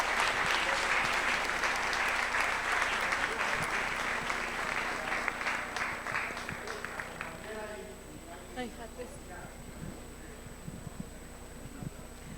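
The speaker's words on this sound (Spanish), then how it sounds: "Quiero felicitarlo, brindarle un fuerte aplauso" An audience at a political forum applauds a municipal president in a dense burst of clapping that thins out over several seconds. Murmured voices take over under a faint steady hum.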